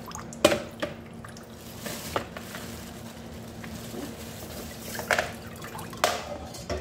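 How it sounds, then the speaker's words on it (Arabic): Thawed spinach sits in a colander while water drains from it, giving faint scattered drips and small wet splashes against quiet kitchen background noise. "أنزل المي هذا كامل."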